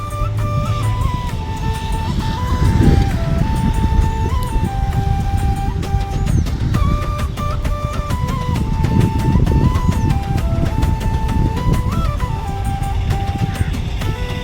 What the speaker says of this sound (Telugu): ఆటోలో మేము 4 మాత్రమే వెళ్ళాము.